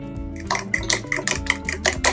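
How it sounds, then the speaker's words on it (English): Eggs are whisked with Greek yogurt, chives, salt and pepper, a whisk clinking quickly and rhythmically against the bowl in steady close-up strokes. "And then whisk everything together."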